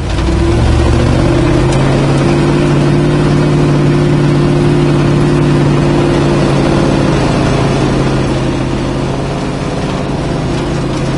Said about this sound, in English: It shifts first, third gear, first, second, third, just the way it should.